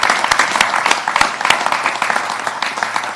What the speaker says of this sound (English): I want to say thank you and a round of applause